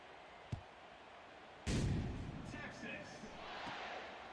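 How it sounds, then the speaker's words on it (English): A cannon booms in a college football video game, one sudden loud blast ringing out over crowd noise, preceded by a faint thump and followed by fading stadium ambience. "Jeez, that cannon was loud."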